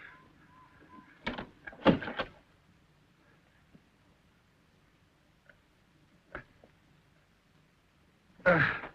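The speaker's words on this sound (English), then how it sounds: "Shut the door." A door is shut indoors in an old mansion, heard as a cluster of sharp wooden knocks and thuds early on, then quiet with a couple of isolated clicks and another heavy bump at the end.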